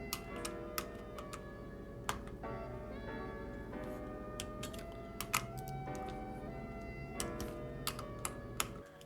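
Sharp ticking clicks from a torque wrench tightening Yamaha YZ125 bottom end bolts to 7.2 foot-pounds, coming in irregular clusters over a steady low background hum, close and fairly quiet.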